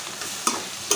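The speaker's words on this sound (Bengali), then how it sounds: "মশলাটা কষিয়ে নিচ্ছি" Spice paste with garlic frying in a pressure cooker, a close steady sizzle with two quick scraping strokes of a stirring spoon.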